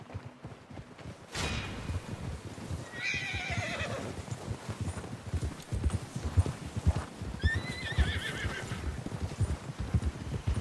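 Horses in the Red Dead Redemption 2 video game neigh and whinny twice over steady clip-clop hoofbeats, the calls loud and near above a continuous rumble of hooves and movement.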